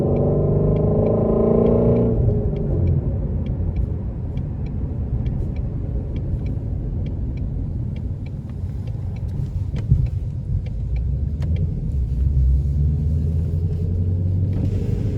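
A 2019 Shelby GT350 driven through rush-hour traffic, its engine giving a loud, continuous low rumble heard from inside the car, with a brief rise in revs near the start and no talking.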